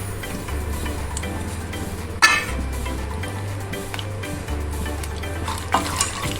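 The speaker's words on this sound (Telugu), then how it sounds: "జీడిపప్పు ఇలా కలర్ మారే వరకు ఫ్రై చేసుకుందామండి" Cashew nuts frying in hot fat in a pan, a continuous sizzle with stirring strokes and a sharp clink of a spoon on metal partway through, close and fairly loud.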